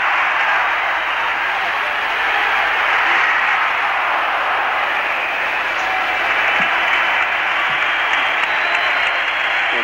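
Steady, loud applause from the arena crowd fills the whole stretch at the 1980 Olympic ice hockey game between the USSR and the USA, a dense unbroken roar of clapping with no pauses.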